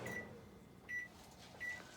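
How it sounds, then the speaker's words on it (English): Three short, high electronic beeps spaced evenly apart ring out from a kitchen timer, clean and moderately loud over quiet room tone. "This is our highly priced timer that none of us can work."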